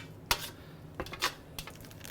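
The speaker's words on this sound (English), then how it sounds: "So you want to take a spoon and make sure you get all this goodness out of here." A spoon scrapes cooked Cajun boudin sausage mixture out of a pot in a few sharp metallic scrapes and knocks, close and fairly quiet, with no talking.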